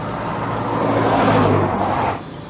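A car engine fired up and revving hard, roaring loudly and steadily before easing off near the end; the engine is overheating and leaking oil from the rear main seal.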